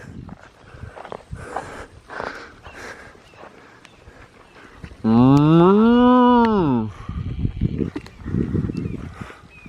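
Cows on a Florida Trail hike give one loud, drawn-out moo lasting about two seconds in the middle, with quieter sounds and occasional voices before and after it.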